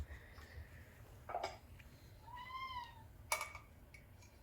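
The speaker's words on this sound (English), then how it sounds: "I'm just going to give some milk to my cat." A cat meows once, a clear rising-and-falling call heard alone at moderate volume in a quiet kitchen, with a few faint clinks around it.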